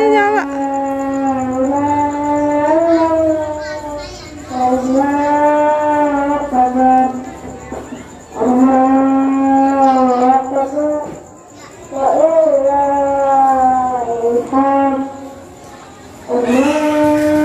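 Cattle moo repeatedly at night during Eid al-Adha sacrifice, long drawn-out lowing calls one after another, loud and nearby, with a faint steady tone behind.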